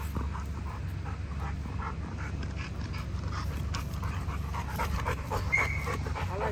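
Big, soft dogs panting steadily close up, with a low rumbling background and a few faint whimpers toward the end.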